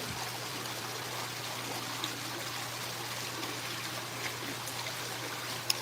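Water trickles steadily down a dark wall inside a university campus building, a soft continuous close wash with a faint low hum beneath.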